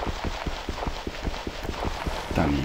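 Horse hooves clip-clopping in the Minecraft video game, a quick steady run of hoofbeats at close range, loud and continuous, with a brief burst of game noise near the end.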